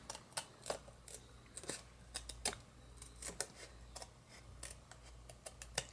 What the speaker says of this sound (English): you're going to take your snips and just cut right on the line you drew